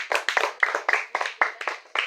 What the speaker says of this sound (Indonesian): Tepuk tangan untuk kelompok ini dulu.